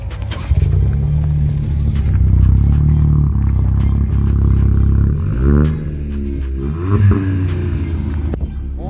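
A VW Up! GTI hatchback engine cranks, starts, and settles into a loud rumble, then is revved several times in short bursts, close by.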